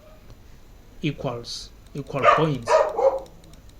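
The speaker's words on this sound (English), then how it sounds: "The dogs are barking" Dogs bark outdoors somewhere behind someone talking, faint and partly masked by his steady speech over a few seconds.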